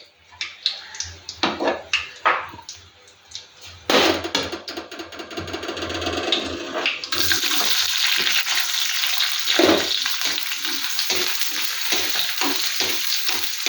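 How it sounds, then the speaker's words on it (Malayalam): Mustard seeds and fenugreek crackle and sizzle in hot oil in a pan while cooking a Kerala-style squid fry, starting with sparse taps and pops, then becoming a loud, continuous close-up sizzle with scattered sharp pops. "കടുക് പൊട്ടുന്നുണ്ട്. 2 വറുത്ത ഉലുവായും കൊടുത്തു."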